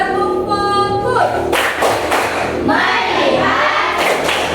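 A classroom of students does the tepuk fokus focus-clap ice breaker, bursts of group clapping in quick rhythmic patterns after a short spoken prompt.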